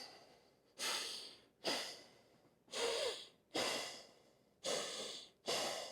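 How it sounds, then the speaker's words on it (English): Nasal breathing during a hip adductor mobility exercise: six strong, rhythmic breaths through the nose, each a loud close rush of air with brief quiet gaps, no talk. "You can hear me here, nasal breathing"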